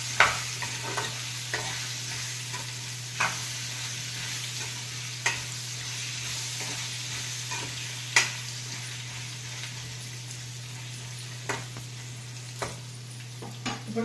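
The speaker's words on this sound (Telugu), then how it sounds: "ఒకసారి అంతా కలిపి ఆయిల్ దించి పట్టేలాగా ఇట్లా ఒకసారి కలిపేసుకొని" Brinjals stirred through hot oil in a pan, steady soft sizzle with a low constant hum beneath, broken by periodic scraping clicks of the spoon against the pan, no talk.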